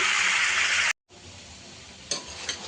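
Chicken masala curry fries in a pan with a loud, dense sizzle that cuts out briefly, then returns quieter with a couple of sharp stirring scrapes.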